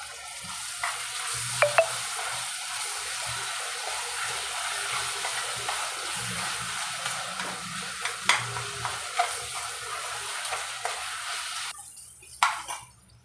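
Chicken and sliced tomato frying in a pan for chicken pulao, a steady sizzle with scraping stirring strokes and occasional spoon clinks against the pan, close and continuous with no talking.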